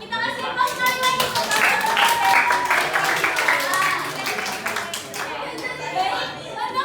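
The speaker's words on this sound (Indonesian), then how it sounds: "Kita kasih aplaus sekali lagi." A classroom audience claps for a student group's presentation, a dense burst of many hands lasting several seconds and then thinning out, with children chattering underneath.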